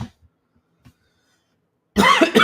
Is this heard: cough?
yes